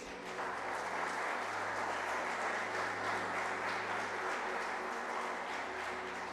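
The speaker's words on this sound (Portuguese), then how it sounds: "dê um aplauso gostoso para o Senhor Jesus" Applause from a church congregation fills the room, sustained clapping at an even level from start to finish, with a low steady hum beneath it.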